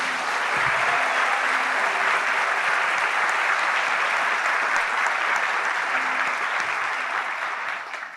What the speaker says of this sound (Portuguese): Eu queria pedir a todos uma salva de palmas para esse casal